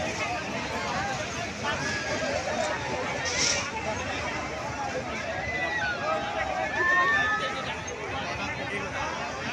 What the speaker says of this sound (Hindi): देखिए पीछे का भीड़।